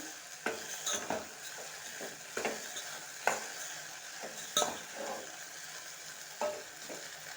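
Okra stir-fried with turmeric in oil in a pan, a steady sizzle under a spatula's scraping strokes that come roughly every second, close and moderately loud.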